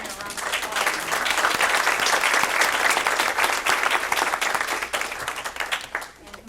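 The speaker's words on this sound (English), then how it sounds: "give me a round of applause" Audience applause at the close of a panel discussion, a full, steady round of clapping from a crowd that swells and holds for several seconds before tapering off, with voices mixed in.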